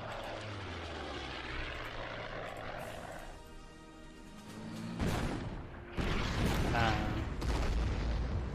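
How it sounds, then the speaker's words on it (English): Artillery fire and battle noise in the World War II strategy game Order of Battle, with a droning engine-like rumble followed by louder bursts and booming impacts toward the end. "There we go. Artillery support."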